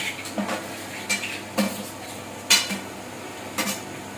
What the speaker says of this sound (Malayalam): ഇനി ഇത് നമുക്ക് നല്ലോണം ഇളക്കി കൊടുക്കാം.